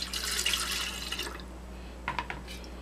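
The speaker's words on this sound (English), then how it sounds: "So I'm going to pour about half of this in here." Melted coconut soy wax poured into a container for test candles, a soft liquid trickle at the start that fades, then a few brief splashes near the end.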